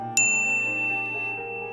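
A single bright notification bell ding rings out once near the start, then fades into a sustained tone over quiet background music.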